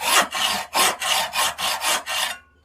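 A hacksaw deepens a slot in the wooden stock of a Mannlicher 1888/90 rifle, seven quick, even rasping strokes close up, then stopping.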